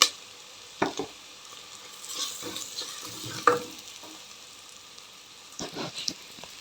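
Curry leaves dropped into hot oil give a couple of quick sizzling bursts, with soft stirring scrapes in between, close and fairly faint, no talking.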